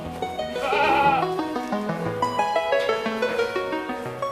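Goats on a goat farm bleat in a few overlapping, wavering calls. The cries are moderately close and carry over a quiet background.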